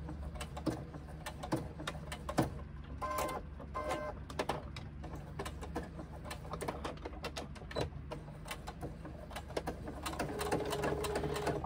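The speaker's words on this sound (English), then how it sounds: "get this as close as you can to the base of the swivel and stitch across" A sewing machine stitches across fabric next to the base of a swivel, a continuous fast mechanical rattle with faint ticking that carries on at a steady quiet level throughout, close up and without talk.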